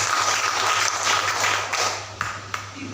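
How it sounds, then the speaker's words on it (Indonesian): Congregation clapping during a Sunday evening church service, a steady wash of applause throughout with a couple of sharper claps near the end. "Tepuk tangan bagi Tuhan kita."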